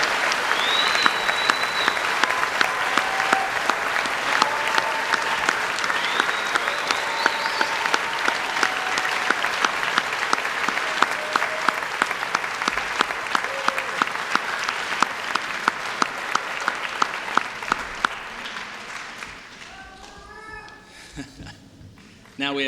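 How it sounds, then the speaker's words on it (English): Sustained applause from an audience at a white coat ceremony for 162 new medical students, dense steady clapping filling over twenty seconds before tapering off, with a few cheers and voices scattered through it. "How about a round of applause for our"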